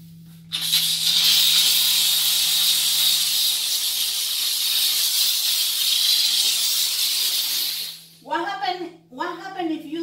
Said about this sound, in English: clean the side of the wall with our vapor steamer